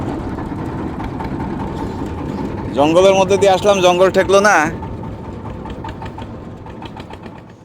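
A trawler boat's engine runs steadily through a grassy river channel on a Padma–Jamuna char, its low rumble continuous under nearby conversation, with a louder, shouted voice rising briefly over it midway.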